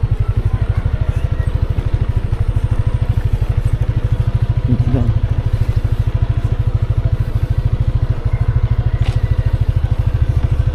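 Motorcycle engine labouring up a steep, slippery trail, a loud close low putter pulsing rapidly and steadily for the whole stretch, with faint rattles and a brief voice partway through.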